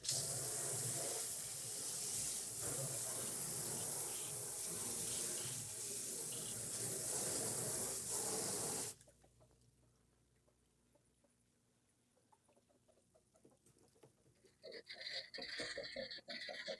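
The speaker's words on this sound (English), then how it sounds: "I'm going to use the hose to spray it out." Freshwater hose spraying hard into a goat's water trough, a loud steady hissing rush for about nine seconds that cuts off abruptly, leaving quiet background with faint outdoor sounds and a chicken clucking nearby.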